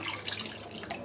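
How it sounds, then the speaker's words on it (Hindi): A glass of water poured into a kadai holding half a kilo of chicken, a steady splashing pour that runs close and continuous for the whole moment with no talk. "पानी डाल दिया।"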